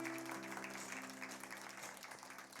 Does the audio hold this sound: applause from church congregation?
yes